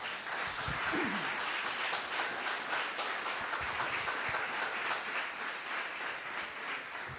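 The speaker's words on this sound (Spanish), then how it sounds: "Dele un aplauso al Señor, mi hermano." A church congregation applauds during a sermon, a steady, moderately faint wash of many hands clapping, with a brief low vocal sound near the start.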